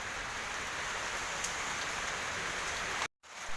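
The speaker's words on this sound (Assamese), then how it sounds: "বৰষুণ দি আছে" Steady rain falls outdoors near a small roadside tea shop, a continuous broadband hiss of drops on surfaces that runs unbroken before cutting out abruptly near the end.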